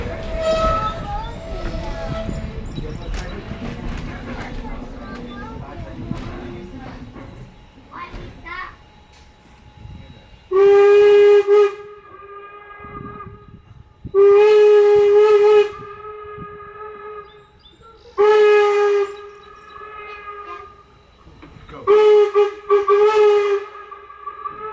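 Steam whistle blowing in four separate long blasts, each a loud sustained chord-like tone, following a stretch of children talking and other voices at the start.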